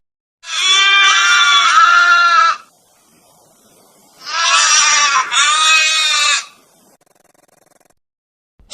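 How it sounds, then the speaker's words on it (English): A farm goat bleats twice, loud and close, each a long wavering cry lasting about two seconds with a short pause between, and then it falls quiet. "goat."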